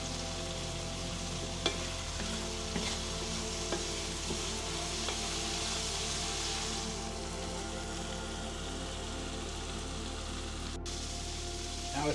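Beef stroganoff sizzles hard in a pan as a tablespoon of Worcestershire sauce goes in, making a loud, dense, unbroken crackling hiss with faint stirring ticks and no voices.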